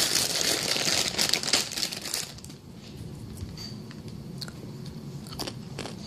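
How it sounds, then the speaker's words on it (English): Close, continuous biting and chewing of food with crunchy, crinkly bites, loud and busy for the first two seconds, then softer, quieter chewing with occasional sharp crunches. "I'm gonna start eating."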